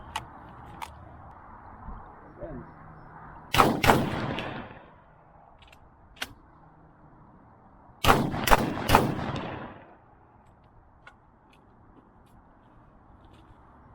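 A Landor Arms LND117 AR12 semi-automatic shotgun fires a magazine of light feather shells outdoors: a single loud shot, then a quick burst of three shots, and later a rapid group of three, with quiet pauses and small clicks between.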